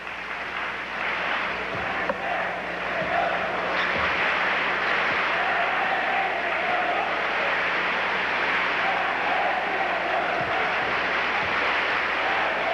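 A pro-Soviet crowd at a 1986 Goodwill Games volleyball match applauds in a dense, steady wash of clapping and crowd noise that holds at an even level throughout, with a few faint calls above it.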